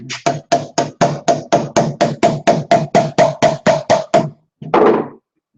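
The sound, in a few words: hammer tapping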